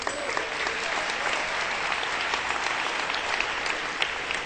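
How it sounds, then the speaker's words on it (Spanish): Sustained applause from a church congregation praising the Lord, an even, continuous roar of many hands clapping at steady loudness throughout. "Denle un aplauso al Señor."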